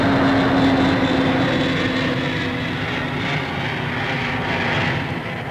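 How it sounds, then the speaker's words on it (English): A loud, broad roar of aircraft engine noise near London Airport at Stanwell, heard as a steady rumbling wash that fades a little toward the end. "His biggest crusade has been against aircraft noise, especially jets."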